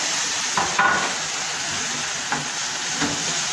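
A mixed meatball mixture goes into a hot frying pan and gives a steady, bright sizzling hiss, with a few soft clatters from the pan and utensil near the start and later on.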